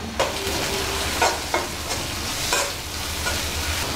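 Onion stalks frying in a pan with salt and turmeric, giving a loud, constant sizzle broken by regular scraping strokes of a spatula as they are stirred.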